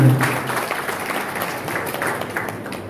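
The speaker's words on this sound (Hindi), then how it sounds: "भाई साहब का जोरदार तालियां बजा के स्वागत करेंगे।" An audience claps to welcome a guest at an office-bearers' installation ceremony of Bharat Vikas Parishad in Nagaur, India, a steady wash of applause opening loudest and easing slightly, with a brief tonal sound at the start.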